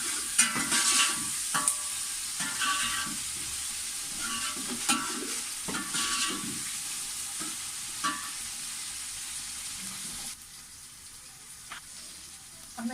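Onions, crushed red chillies, green chillies and garlic paste sizzle and fry steadily in a pan while being stirred, with scraping spoon strokes at irregular intervals over the continuous hiss, quieting somewhat near the end.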